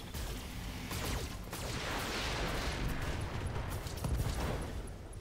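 Mech weapons in the Roguetech video game fire at an enemy torso: a rolling barrage of heavy shots and booming impacts stretches across the whole stretch, fairly faint and steady, with a louder burst late on and no speech.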